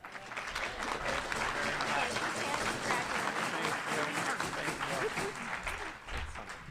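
Rotary Club members applaud a newly welcomed member at a meeting in Tucson. Steady, full clapping from a roomful of people carries on for several seconds, then tapers off near the end.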